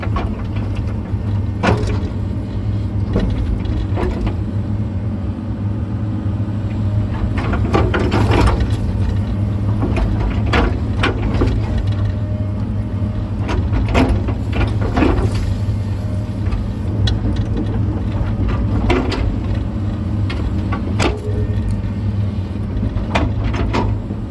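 A Komatsu 230 excavator digs out stumps and dirt on a six-acre lot. Its engine drones steadily the whole time, broken by repeated clanks, knocks and scraping bursts as the bucket scoops, drops and shakes out soil.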